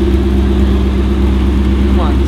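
A Ford GT's 810 hp engine runs steadily and loud up close, a deep continuous rumble holding an even note for a couple of seconds with no talk over it.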